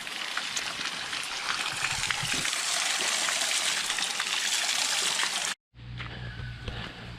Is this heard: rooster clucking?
no